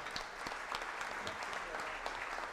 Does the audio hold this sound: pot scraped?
no